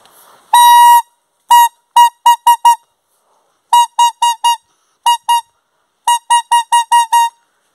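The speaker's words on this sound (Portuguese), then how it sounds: "Esse é o barulho do apito." A homemade whistle of split taquara bamboo gives one long shrill blast, then bursts of short sharp toots in quick groups of three to five, loud and close, with no talking.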